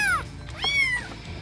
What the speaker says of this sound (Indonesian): anak kucing yang mengeong